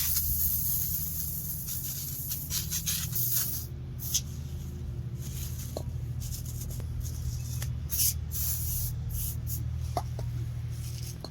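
An aerosol can sprays penetrating oil onto brake parts in a long steady hiss, close by, with brief pauses and small clicks and scrapes of handling.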